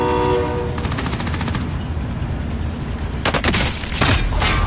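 A train rumbles past in a video game, its horn sounding in long harmonic blasts near the start, with bursts of rapid gunfire cutting in toward the end over the constant loud rolling noise.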